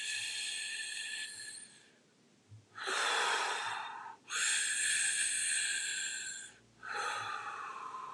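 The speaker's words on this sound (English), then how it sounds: "I'm going to breathe mouth, nose, really deep into the stomach, up, fill up the whole lungs" Deep breathwork breathing: long, loud airy inhales through mouth and nose filling the lungs, each followed by a quicker rushing exhale, repeated several times close up with quiet gaps between.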